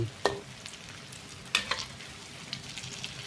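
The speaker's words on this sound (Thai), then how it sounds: "เราก็ค่อย ๆ ทอดไปใช้ไฟกลางนะครับ" Food frying in a pan over medium heat for a prawn sour curry meal, a soft continuous sizzle with several sharp crackles and pops scattered throughout, close and fairly quiet, with no talking.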